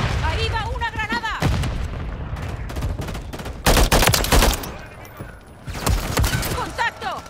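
Grenade blasts and rapid gunfire from Call of Duty Modern Warfare III on the Rust map in Domination mode, with loud booming bursts and rattling automatic fire mixed with someone shouting in Spanish.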